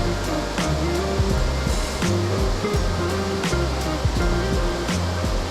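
A waterfall on the Patapsco River pours down in a steady, loud rush of water that holds continuous and close throughout, with no voices.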